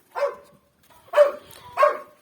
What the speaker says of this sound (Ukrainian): Не вгаває собака, бо дуже вже він їх не любить, от не звик він до кіз і все.